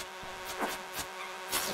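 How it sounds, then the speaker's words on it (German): A bee in the video game Stardew Valley, a short close buzzing drone with a few fluttering swells over about two seconds. "Töte mich nicht, Biene."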